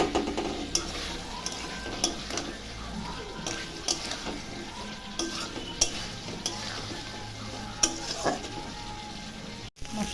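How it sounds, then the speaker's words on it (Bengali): Spices sizzle in hot oil with potatoes and pointed gourd while a utensil stirs and scrapes the pan, a loud, continuous frying hiss with steady clinks close by. "মশলাটা ভাজা অল্প হয়েছে, আর একটু কষাবো পটল আলুগুলো দিয়ে।"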